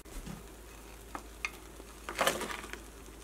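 Fried paneer added to a tomato masala in a pan and stirred, a quiet sizzle broken by a few sharp clinks and a louder scraping burst partway through, no voices.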